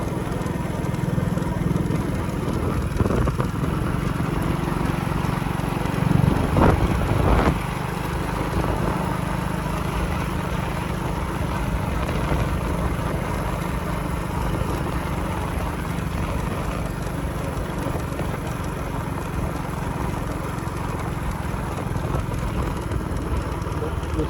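A motorcycle rides along a rural road past villages and rice fields, its engine a continuous drone mixed with road and wind rush, briefly swelling louder partway through.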